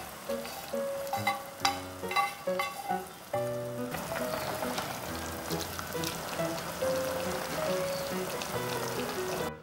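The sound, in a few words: ramen boiling with added ingredients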